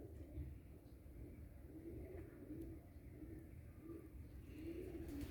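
Pigeons, including a loft of Turkish performing pigeons, coo in a low, repeated rhythm of soft throaty phrases, steady and fairly near across several seconds, over a constant background hum.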